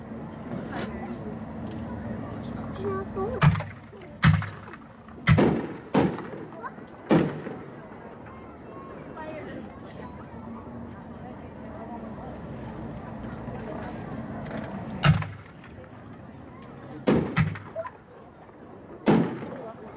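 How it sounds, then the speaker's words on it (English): Hotshot Neon Artillery Shell, a 60-gram consumer firework shell, bursts in a series of sharp, booming reports spaced irregularly across the stretch, with a distant crowd murmur and voices between the blasts. "now we'll be moving on to the Neon Artillery Shell"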